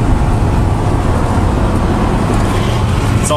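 Steady, loud wind and road roar inside a Winnebago Lesharo motorhome while driving, a dense continuous rumble strongest low down with broadband hiss above, unchanging throughout with no talk.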